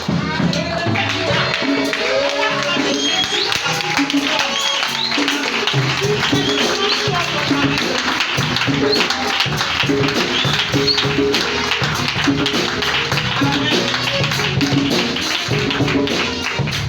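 A church congregation at a women's celebration service claps steadily and loudly throughout, a dense continuous patter of many hands with voices mixed in.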